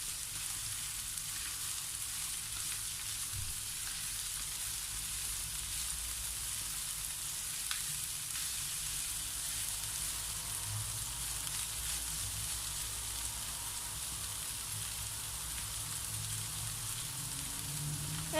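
String beans and ground pork stir-fry in a pan, producing a long, even, moderately quiet sizzling hiss with occasional faint scrapes, no talking.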